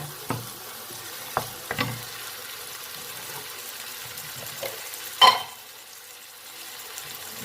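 Rice stir-fried with egg in a pan gives a low sizzle with sparse scrapes and clinks of the spatula, including one sharper metallic knock near the end.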